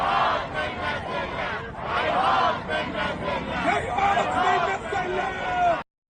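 A large crowd at an Iranian rally chants in unison in response, loud rhythmic massed voices rising and falling in waves before cutting off abruptly.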